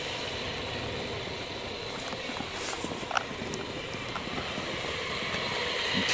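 A small battery-powered garden railway engine pushes a green snow plough through snow and shrubbery outdoors, giving a steady low rumble and scraping hiss throughout with a few faint clicks and knocks, and no one speaking.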